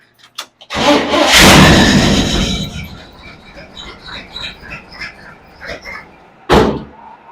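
A 1952 Ford F1 truck engine cranks loudly for a couple of seconds, then sputters and fades without catching. A second short burst of cranking comes near the end. No one speaks.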